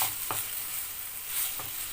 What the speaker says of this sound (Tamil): இப்போ நறுக்கி வச்சுருந்த தக்காளியும் இதில் சேர்த்து நல்லா மிக்ஸ் பண்ணிக்கலாம்.